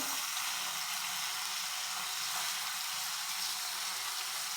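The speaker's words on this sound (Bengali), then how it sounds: "বাকি মাছগুলো দিয়ে দিয়েছি, এগুলো ভেজে নেব।" Bata fish frying in hot oil in a home kitchen, heard as a steady, even hiss of sizzling that runs unbroken throughout, moderately loud and without voices.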